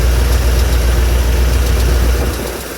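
A 1982 Chevy C10 regular cab short bed pickup with a 355 V8, chrome valve covers and a high-rise manifold idles with a loud, steady, deep rumble that eases off slightly near the end.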